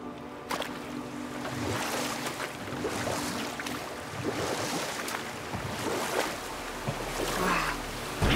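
A huge waterfall in the God of War video game gives off a steady broadband roar of rushing water with gusty swells, continuous and fairly loud throughout.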